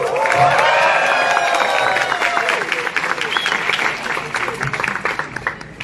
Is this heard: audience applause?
yes